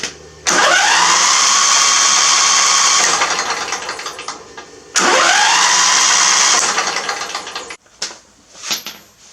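Small engine on a homemade mud mower started twice, each time catching with a rising whine that settles into a loud, high running note before winding down, followed by rattling handling noises.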